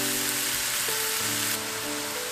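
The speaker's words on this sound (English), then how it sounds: "we're going to let the blueberries simmer" Blueberries simmering in a pan give a steady bubbling sizzle with a soft, continuous crackle, close and fairly loud, with no voices.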